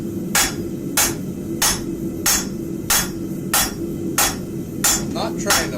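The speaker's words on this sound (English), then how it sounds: "so I can come in with my cross peen and start spreading that middle out" Cross peen hammer striking hot metal on an anvil in a blacksmith shop, nine sharp ringing blows in a steady rhythm, close and loud over a low background hum.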